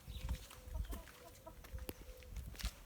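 Backyard chickens cluck softly nearby in a garden, a few short scattered clucks and calls over quiet background noise.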